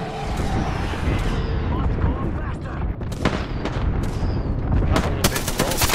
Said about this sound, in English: Rolling the airstrike.